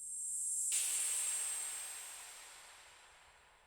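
Synthesized white noise impact drenched in heavy ambient reverb, dry signal removed, from a lo-fi beat. It bursts in suddenly after a brief silence as a bright hiss, then slowly decays.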